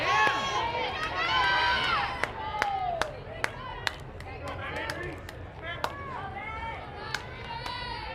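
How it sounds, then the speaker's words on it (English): A crowd at a women's college softball game at the Seminole Softball Complex cheers a home run with loud whoops and shouts, then applause and cheers settle while a commentator talks over them and sharp bat-like cracks punctuate. "What a good crowd on hand here at the Seminole Softball Complex."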